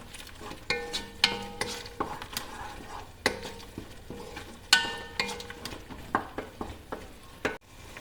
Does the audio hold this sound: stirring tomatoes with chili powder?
yes